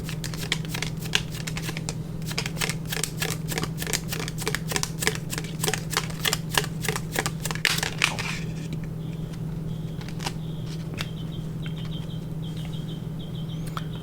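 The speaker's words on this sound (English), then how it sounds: "let me pull a few closing cards here." Tarot cards shuffled in a long run of quick, rhythmic riffling flutters, then a few softer slides and taps as cards are pulled, close and clear over a steady low hum, with no talking.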